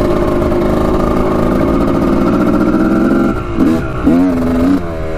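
A Honda CR250 two-stroke dirt bike engine holds a loud, steady high idle up close, then blips through several sharp revs that rise and fall.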